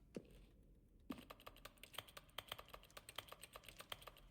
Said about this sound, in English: I'm so good at typing.